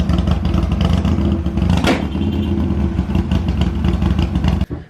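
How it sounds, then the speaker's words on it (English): A 2007 Harley-Davidson Nightster XL1200N fitted with a Thunderheader 2-in-1 race pipe revs hard and close, its loud, raspy exhaust swelling and falling before cutting off abruptly at the end. "it also came with a Thunderheader 2-in-1 race pipe. This thing is loud."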